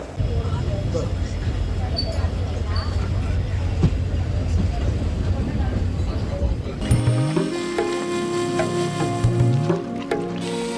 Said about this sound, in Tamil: கைஸ் நம்ம ட்ரெயின் கிளம்பிருச்சு மதுரையிலேருந்து ராமேஸ்வரம் போய் சேர கரெக்டாக ரெண்டரை மணி நேரம் ஆகுங்க